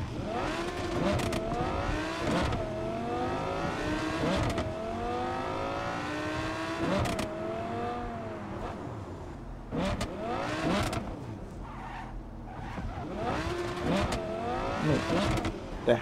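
Car engine in Cyberpunk 2077 revving hard through repeated gear shifts, rising whine dropping at each change, loud and continuous for the whole stretch with brief pauses near the middle.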